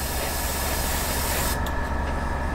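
An airbrush sprays paint onto parts of a 1/48 scale Spitfire Mk I model kit, giving a loud, close, continuous hiss that softens slightly in its upper tones partway through.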